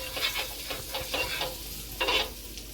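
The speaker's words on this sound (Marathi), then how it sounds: "त्यानंतर तुम्ही मग त्यात तेल आणि बटर टाकायचं आणि ते पूर्णपणे मिक्स करून घ्यायचं" Oil and butter stirred together in a hot pan while marinated tandoori chicken drumsticks wait nearby, giving a soft, close sizzle with a few brief scraping swirls and no voices.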